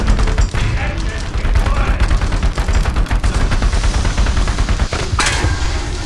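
Smoke grenades launch from a vehicle in a video game, heard as loud, dense booming bursts over a continuous heavy rumble, with one sharper crack near the end.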